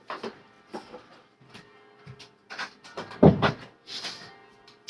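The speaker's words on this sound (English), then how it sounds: "I'm just going to close my door." A door is pushed shut indoors: a few soft knocks and scrapes, then one firm thud of the door closing, with quieter clicks and handling noise around it and no talking.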